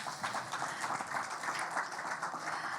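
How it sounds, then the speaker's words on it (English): An audience applauds after a startup pitch at a health tech finals event, a steady, moderately quiet wash of many hands clapping at once, with no other sounds standing out. "Big applause."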